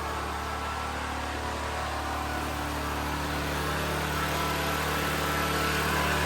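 An air compressor drones steadily with a low motor hum and broadband hiss, continuous and moderately close, with no voices.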